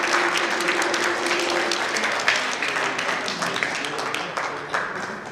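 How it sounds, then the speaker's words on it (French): An audience at a solidarity festival in Leuville applauds steadily, a thick, even wash of clapping that holds for the whole stretch with faint voices mixed in. "Je souhaite qu'on lui applaudisse très fort"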